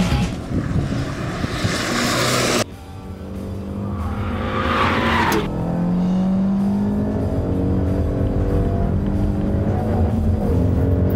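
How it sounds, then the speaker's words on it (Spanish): A Volkswagen GTI accelerates hard under automatic shifting, its engine climbing loudly in pitch, cutting briefly at a gear change, then pulling again through rising revs with the tires faintly squealing. "es impresionante también cómo acelera este auto"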